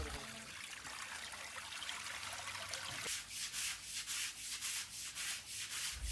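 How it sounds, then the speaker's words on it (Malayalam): Water drains out of a large aquarium fish pond through a valve outlet. A faint steady trickle gives way halfway through to rhythmic, surging gushes, heard up close with no speech. "ഇതിൽ കൂടെ തന്നെയാണ് നമ്മൾ ഇതിലുള്ള വെള്ളം ഒഴിവാക്കുന്നത്"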